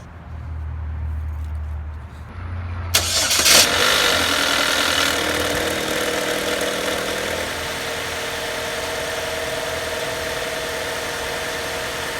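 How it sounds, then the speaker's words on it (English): A Chevy Cobalt engine cranks and catches after a quiet start, revs briefly, then settles into a steady, fairly loud idle that runs to the end. "Now we're gonna start the engine and see what it sounds"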